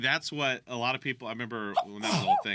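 A single sneeze bursts out in a conversation, with people talking steadily before and after it.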